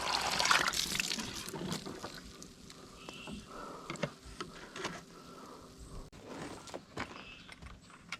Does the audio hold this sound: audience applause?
no